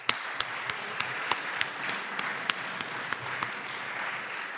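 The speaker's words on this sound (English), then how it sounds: "So let's give a big round of applause to everyone." A ceremony audience at a programming contest opening breaks into steady applause, a dense crowd of clapping hands with a few sharper individual claps standing out, sustained and moderately distant.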